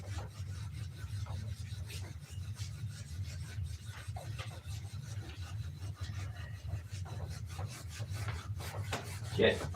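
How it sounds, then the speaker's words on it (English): Steady hand rubbing or rasping against a wooden object, a continuous close scraping texture that runs throughout with no talk over it. "all this rubbing's gonna take 3 ounces off of it"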